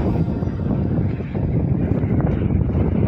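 Strong wind sweeps across an exposed hilltop near a cave in Athrai, Terhathum, Nepal, a loud, continuous low roar buffeting the microphone with no voices.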